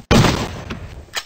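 Gunfire in the 2D shooter game Gun Mayhem 2 starts with a sharp, loud blast that decays through a short burst of crackle, ending with a fainter second shot.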